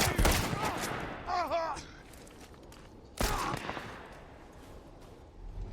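Video game gunfire cracks out in loud bursts of rapid shots at the start and again about three seconds in, with a voice talking between the volleys.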